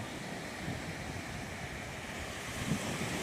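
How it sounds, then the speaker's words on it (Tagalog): Big ocean waves wash around a small fishing boat at sea, a steady close rush of surf and water churning with wind buffeting the microphone throughout, no voices. "Oh, yun, lalaki ng alon, no?"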